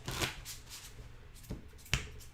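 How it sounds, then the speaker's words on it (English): A deck of playing cards is shuffled by hand before dealing a poker hand, giving soft, close riffling rustles with a few sharp snaps of cards falling together, and no voices. "I'm going to shuffle up and deal the first hand."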